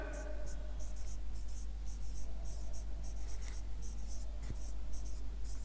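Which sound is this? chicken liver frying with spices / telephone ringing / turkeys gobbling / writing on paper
writing on paper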